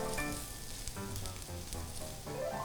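Onions softening in a hot pan with oregano added give a steady, close sizzle that runs through the whole moment, partly under background music.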